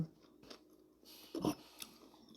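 Chewing on a Thai rice noodle salad: soft, close mouth sounds with a few crisp crunchy bites clustered near the end, quiet and alone with no talk.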